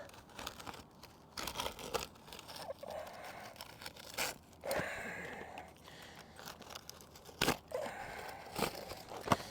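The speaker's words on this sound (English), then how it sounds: "If I were to take this shingle and cut the bottom off" An old Tamko asphalt roof shingle being cut along its bottom edge, with scattered close scraping, crunching and gritty rasps in irregular bursts and brief pauses.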